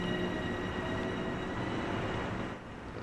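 Long Island Rail Road M3 electric train running in Train Sim World 4, a steady rumbling hum with tonal motor whine and rail noise, continuous and fairly loud, easing slightly near the end.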